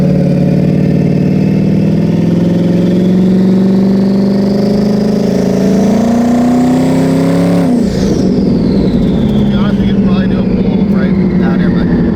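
A 1300 whp drag car engine revs loud and continuous, pitch climbing steadily before dropping off sharply, then rising again, with voices faintly mixed in.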